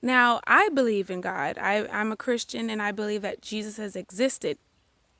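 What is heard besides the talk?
No everyday noise stands out behind the speech.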